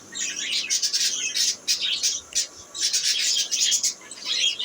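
Pet birds in a nest box with eggs chirp and tweet almost without pause, a close, bright flurry of high calls that dips briefly between bursts.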